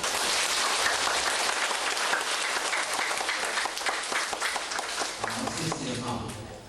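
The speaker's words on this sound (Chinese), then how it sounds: "用最热烈的掌声来感谢" Loud, sustained applause from an audience at a religious study class gathering, a dense unbroken wash of clapping that holds steady for the whole stretch and eases slightly near the end, with voices faintly underneath.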